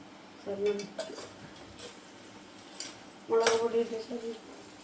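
Pickle being stirred in a metal pot, scattered clinks and scrapes of a spoon against the vessel, close, with voices talking in between.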